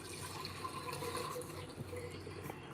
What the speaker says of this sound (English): So I'm going to pour this back in here.